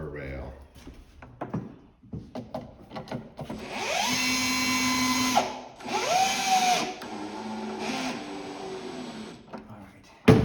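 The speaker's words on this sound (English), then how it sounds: "is drilling through the rear side of this lower rail" A power drill whirs in two sustained bursts, drilling through the rear side of a lower wooden rail, ramping up and settling, with short pauses and some handling knocks between, fairly close.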